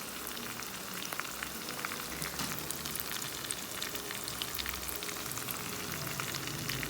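Red and green chillies and curry leaves frying in hot oil, a steady dense sizzle and crackle with tiny pops throughout, fairly quiet and without talk.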